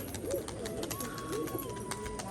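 Rajshahi pigeons let outside coo softly in low, rolling phrases, with faint chirps and a thin tonal whistle against a quiet outdoor background.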